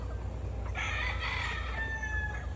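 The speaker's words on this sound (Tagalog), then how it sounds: "marami ditong mga manok oh, tingnan niyo oh" A rooster crows once over a low steady hum, with hens faintly clucking in the background.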